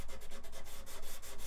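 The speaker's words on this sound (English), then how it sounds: "just keep sanding until those low spots have been removed" A wooden guitar body is hand-sanded during finishing, with quick rhythmic back-and-forth strokes of about seven per second, close and steady with no pauses.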